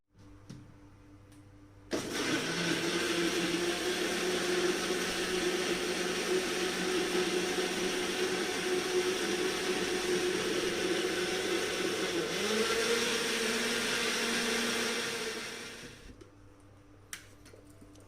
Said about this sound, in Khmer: ហើយបន្ទាប់មកចាំយើងក្លុកវាឲ្យម៉ត់ទៅ